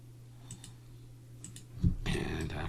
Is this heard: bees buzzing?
no